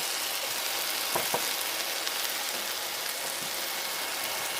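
Gourd leaves drop into a hot wok with garlic, setting off a steady, fairly loud sizzle and crackle, with two short louder spatters near the start; no voices.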